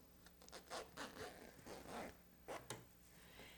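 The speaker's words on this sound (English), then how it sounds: "but I can zip it together" An invisible zipper on a light-coloured sewn garment being pulled closed, giving several short, quiet rasping zips in bursts, close up and without speech.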